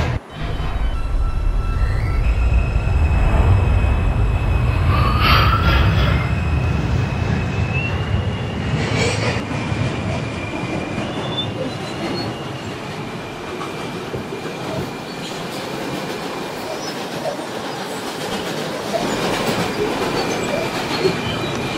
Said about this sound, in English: This is an Eastchester bound 5 train.